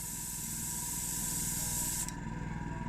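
Satin aerosol spray paint hissing from a can at close range, a steady loud spray for about two seconds that then stops, leaving quieter background.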